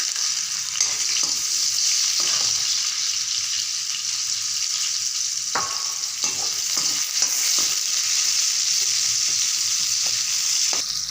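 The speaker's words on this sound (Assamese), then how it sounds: "তেল গৰম হ'ল, পিঁয়াজ দি দিছোঁ।" Onions frying in hot mustard oil with a little turmeric, a constant bright sizzle with a few soft clicks of stirring, close and alone.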